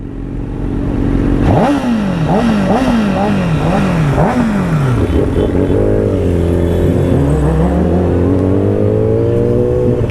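A loud motorcycle exhaust revs up and down several times in quick bursts, then settles into a rough, throaty idle close by.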